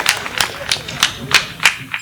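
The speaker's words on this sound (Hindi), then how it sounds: "दोनों हाथ उठाकर जोरदार तालियां बजाकर भाई अरविंद पोटा को आमंत्रित" About seven distinct, evenly spaced claps ring out close by as a poet at a Hindi comic poetry recital is welcomed, with each crisp clap standing alone and a little murmur of voices underneath.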